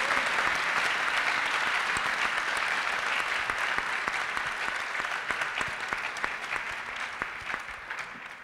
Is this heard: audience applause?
yes